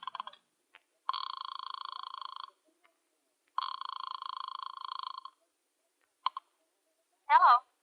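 Telephone ringback effect in a radio drama phone booth scene, two long buzzing rings separated by a pause, preceded by dial clicks and ending with a short voice.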